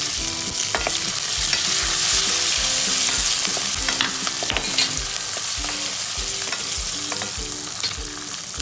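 Garlic, green chili and ginger frying in a pan for veg Kolhapuri, a continuous bright sizzle with regular metallic stirring scrapes and taps throughout, close up and without speech.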